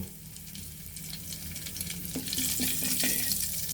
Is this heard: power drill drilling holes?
no